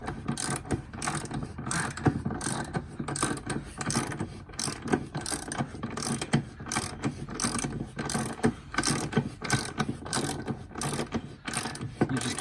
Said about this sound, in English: You just keep wrenching on that until it's all the way in there.